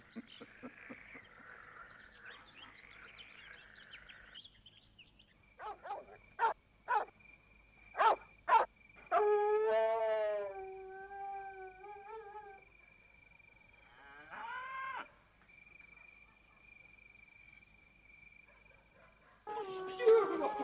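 A dog gives a run of sharp, loud barks, then a long wavering howl, with quieter rustling and a low background hum around it.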